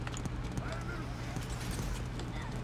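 Horses clip-clop at a gallop in the battle video game Totally Accurate Battle Simulator, a busy mass of hoofbeats and whinnies amid constant game noise and a steady low hum, with scattered voices over it.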